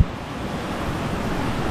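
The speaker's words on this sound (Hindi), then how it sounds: "नदी है इधर, झरना है" A river and waterfall at Tapovan send up a steady, broad roar of rushing water close by outdoors, loud and continuous with a slight windy rumble and no talk.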